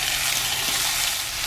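Leftover cooked rice sizzles in hot oil in a pan on a van stove, a steady bright crackling hiss throughout with no voices.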